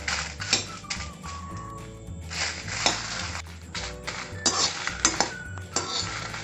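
Black urad dal and dried red chillies dry roasting in a pan for idli podi, with repeated close metallic scrapes and clinks of a spoon or spatula stirring against the pan.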